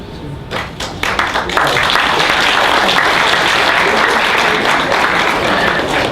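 An audience at a legal seminar on union financing breaks into applause, starting with a few scattered claps and swelling into sustained, loud, dense clapping that fills the room.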